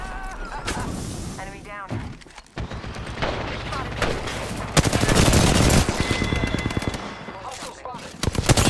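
Gunfire in the video game Apex Legends, bursts of automatic fire and heavy shots crackling at close range, interleaved with in-game voice callouts and game sound effects.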